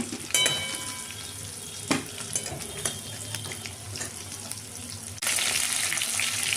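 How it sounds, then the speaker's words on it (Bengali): Potatoes fry in white oil for an egg chicken biryani, a steady crackling sizzle with sharp pops and spatters, brief stirring clatter, and the hiss swelling louder near the end. "এইবারে এই আলুগুলোকে ভেজে নেব"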